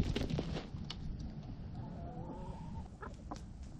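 Roosters and a hen move about on a farm, with clucking calls over a dense, constant bed of farmyard noise, fairly close and moderately loud throughout.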